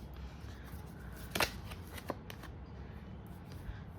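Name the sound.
shuffling oracle cards for a tarot-style reading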